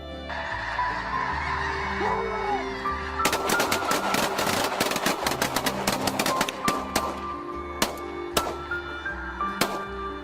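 A large flock of snow geese honking overhead during a hunt, a dense continuous chorus joined midway by a rapid volley of loud, sharp shotgun blasts that keep firing in bursts until the end.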